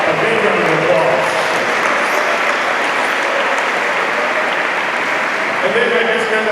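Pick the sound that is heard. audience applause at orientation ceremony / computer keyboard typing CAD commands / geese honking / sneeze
audience applause at orientation ceremony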